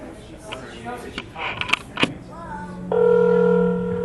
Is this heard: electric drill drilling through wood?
no